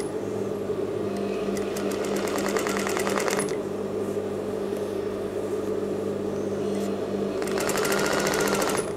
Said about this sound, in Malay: kita tindih kasih ikut saja jahitan yang kita buat tadi